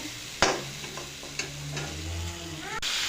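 Cucumber and potato pieces drop into a hot pan for a Bengali fish curry, landing with a sharp thump that sets off a steady sizzle and soft stirring, close by.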